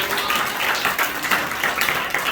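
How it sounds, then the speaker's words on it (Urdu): A church congregation applauds during a Father's Day sermon, a steady, dense wash of many hands clapping at close to moderate distance, sustained throughout with slight swells and no clear speech over it. "تالیاں بجائیں خدا کے جلال کے لیے"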